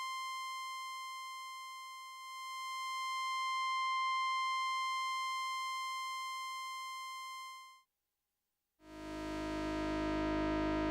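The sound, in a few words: modular synthesizer tone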